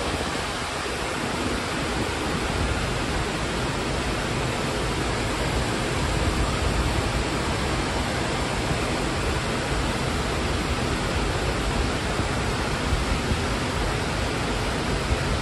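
Continuous roar of rushing water pouring through a dam, a broad, steady wash of noise that stays loud and unbroken with no voices over it.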